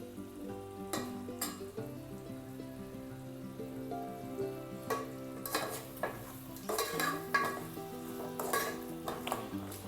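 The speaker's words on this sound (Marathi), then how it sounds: "आता आपण चवीनुसार मीठ टाकतोय. चांगलं परतून घेऊया." Salted mutton pieces are sautéed and stirred in a pan for a dry mutton sukka. A soft sizzle sits under repeated scraping and clinking of a spoon against metal, with the clatter coming in irregular bursts.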